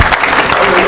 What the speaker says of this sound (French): Acclamez Jésus.